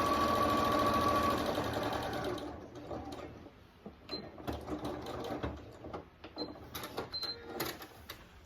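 A sewing machine stitches around a fabric strap for a photo ID pouch, a steady close mechanical whir at first, then breaking into uneven bursts of clicks and short runs.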